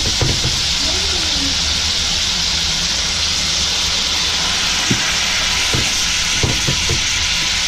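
Soy sauce sizzling loudly in a hot pan with yellowtail fish over a strong flame, a steady, close, dense hiss throughout with a few small clinks.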